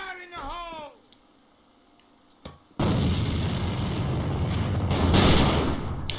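A grenade detonates in a multiplayer shooter match, a sudden heavy blast that breaks into a loud, sustained roar of debris and gunfire after a quieter stretch with a voice at the start.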